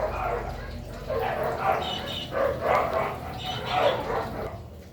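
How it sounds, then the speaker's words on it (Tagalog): Several dogs bark and yip repeatedly at a distance, muffled as if heard from indoors, with an ongoing low background hum. "Ang ingay ng mga aso sa labas."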